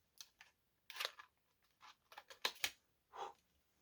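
A card or blade slicing the paper seal on a 2021 vintage Bicycle playing card tuck box, heard as a quiet series of short, crisp scratching cuts and taps, close and faint.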